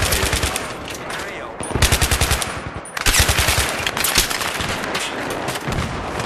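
A QBZ assault rifle with no attachments fires in Battlefield 3, sounding as loud rapid automatic bursts with short gaps between them over continuous battlefield noise.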